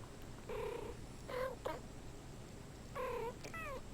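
Two house cats trade soft, chirping meows and trilling purr-like calls in short phrases with pauses between, close and fairly quiet, with no one talking.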